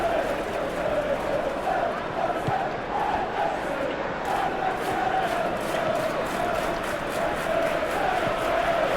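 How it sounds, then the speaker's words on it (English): A simulated football stadium crowd in PES 21 roars and chants continuously during an Everton versus Manchester United Premier League match, a dense, steady wash of massed voices. "Now the crowd are demanding that they just finish this off."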